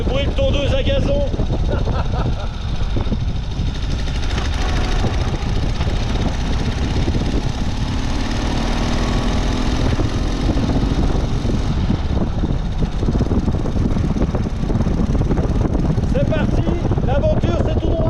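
A vehicle engine drones steadily and loudly throughout while driving through an arid Argentine desert, a buzzy, rattling sound much like a lawn mower, with rushing wind mixed in.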